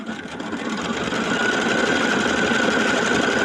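A sewing machine stitches a quilt block with Mylar, giving a steady, fast mechanical whir and rattle that holds continuously throughout without any talk.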